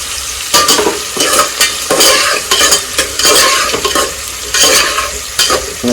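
Chicken curry stirred in a pan with a utensil, scraping and sizzling in repeated bursts of rough, close, loud strokes about every half second, with no voices.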